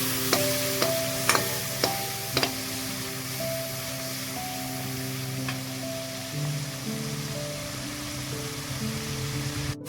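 Steady sizzling of tomatoes frying in oil as salt and turmeric are stirred in, with a few sharp scraping knocks of a spoon against the pan early on and a continuous low hum beneath.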